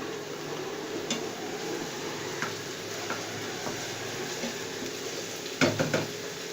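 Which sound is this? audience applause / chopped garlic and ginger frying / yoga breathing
chopped garlic and ginger frying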